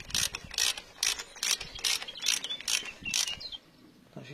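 Ratchet wrench tightening bolts while reassembling an engine's cylinder head and timing cover, a run of about eight quick clicking bursts in steady rhythm, close and fairly quiet, then a brief pause and a softer knock at the end.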